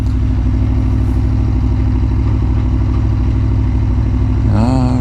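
Aprilia Tuono motorcycle engine running steadily at a low idle, a loud close rumble with a brief rise in pitch near the end and no talk.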